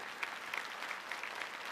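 A crowd at a village gathering of daughters claps together in a fairly soft, continuous patter of applause, heard at a distance without speech over it.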